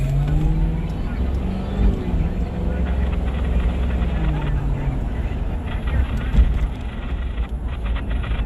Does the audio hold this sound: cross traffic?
yes